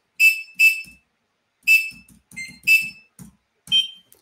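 A small buzzer on a Raspberry Pi driven by a Java program sounds a series of short, shrill electronic tones, with a couple of quick beeps, a pause, then several more, clear and close with no talking.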